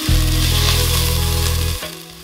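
Onions and grated ginger sizzle loudly in a tablespoon of cooking oil for a Filipino chicken ginger soup, a strong steady fry close by that fades after a couple of seconds.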